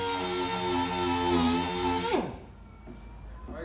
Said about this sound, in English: we're just gonna double sand this whole thing just in case